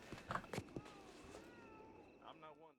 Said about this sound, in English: A horse should be clearly audible.